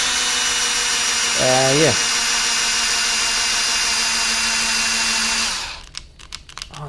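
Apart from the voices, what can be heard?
cordless hand drill drilling soft material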